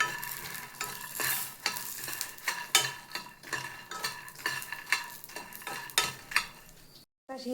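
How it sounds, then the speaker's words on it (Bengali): Garlic frying in oil in a pan, sizzling steadily with repeated scraping stirs and a few utensil clinks, ending in a brief silence. "এই তেলের মধ্যে রসুন দিয়ে দিয়েছি। রসুনগুলো একটু ভাজা ভাজা হোক।"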